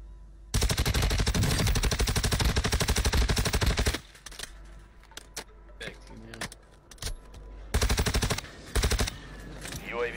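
Automatic gunfire in Call of Duty Warzone: a long, loud, close rapid burst, then scattered shots and clicks, and another burst near the end.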